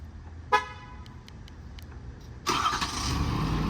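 A 2023 Ford F550 4x4 diesel mechanics truck remote starts: a short horn chirp sounds first, then after a quiet pause the diesel engine cranks and settles into a loud, steady broadband idle.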